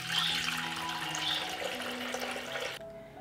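Cold water, about a litre, pours into a 6-litre pressure cooker in a steady splashing stream that stops abruptly near the end.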